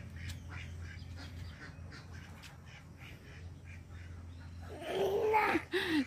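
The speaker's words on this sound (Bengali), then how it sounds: "আর আমার পায়রাগুলো দেখো" Pet pigeons kept at home call and flutter, with close bursts of birdsong and wing noise rising loud near the end over a steady low hum.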